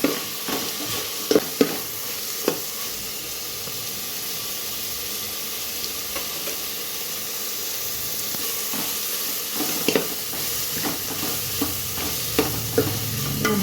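Tomatoes and onions fry in a pan while being stirred, giving a steady sizzling hiss broken by scraping strokes from a spoon, close up, with no talking.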